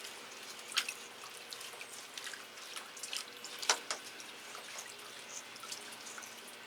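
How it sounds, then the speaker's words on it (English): Phragmipedium orchids rinsed in rainwater give off sparse, faint drips and small splashes, with a couple of sharper drops standing out against a quiet background and no voices. "and then I might put some fresh rainwater, some clean one, and rinse them again, just for a second time."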